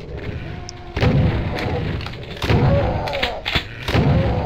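Enemies firing in the Doom 2 video game, a string of loud booming shots spaced irregularly a second or so apart, heavy and close, with no talk over them.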